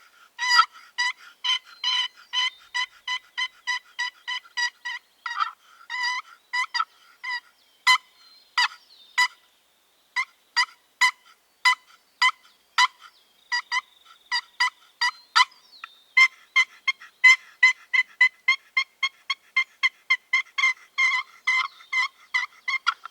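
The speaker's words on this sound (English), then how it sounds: "This is a Primos Box Call, and it's basically just a sound chamber with a loose connection here" A Primos box call scrapes out sequences of sharp turkey yelps and clucks, fast runs broken by slower single notes, loud and near with no talking.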